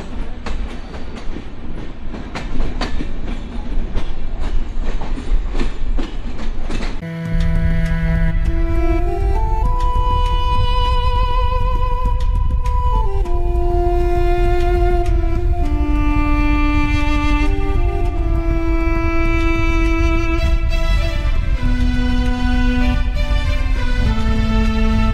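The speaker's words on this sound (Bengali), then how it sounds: "আমাদের ট্রেনটা হচ্ছে এখন দিনাজপুর রেল স্টেশন থেকে ছেড়ে গেল" Drutojan Express train pulling out of Dinajpur railway station, steady rumbling and clatter from the carriage, then a long sustained horn that shifts between several pitches over the continuous rolling noise.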